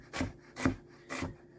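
A knife slicing red onion on a board for mango salad, three evenly spaced scraping cuts close and clear, with no talk.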